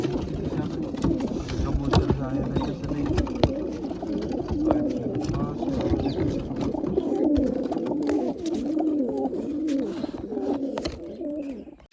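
Domestic pigeons at a rooftop loft coo repeatedly and close by, their low rolling calls running almost continuously, with faint background noise and little talk.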